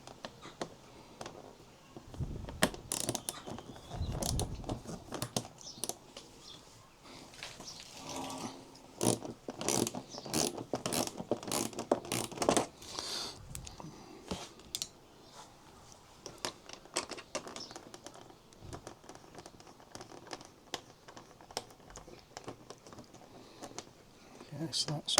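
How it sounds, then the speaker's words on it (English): T25 screws being undone on the front of a BMW F900GS motorcycle, with close ratcheting clicks and small metallic tool sounds coming in bursts while a person talks intermittently. "we're just going to be undoing these T25s down on the front here"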